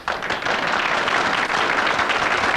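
Dense, sustained clapping from a studio audience at a 1994 Rush Limbaugh TV show, loud and continuous throughout with a brief dip midway, no voices on top.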